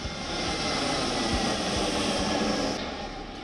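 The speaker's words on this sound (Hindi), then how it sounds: "ये समस्या लोगों को मंजिलों तक पहुंचाने वाले विमानों के शोर की है।" Loud, steady roar of an aircraft passing low over homes in Delhi, a continuous broad engine rumble that stays strong throughout and eases slightly at the end.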